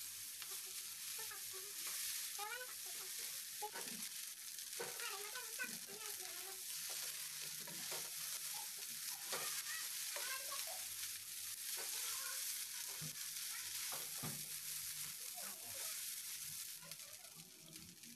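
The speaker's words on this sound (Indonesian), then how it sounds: "Masukkan daun bawang bagian hijaunya dan aduk rata." Rice vermicelli with green onions being stir-fried in a pan, a steady sizzle with frequent scraping and stirring clatter throughout, close and continuous with no talking.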